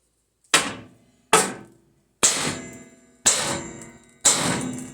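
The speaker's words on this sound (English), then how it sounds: "I had to beat the shit out of the spindle to do it" Five heavy hammer blows ring out on a car's front spindle during spring removal, each a sharp metallic clang with a ringing decay, spaced about a second apart and close by.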